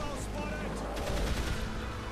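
Gunfire in the video game Dead Island Riptide, a dense, loud rattle of rapid shots across the whole stretch, heavy and continuous.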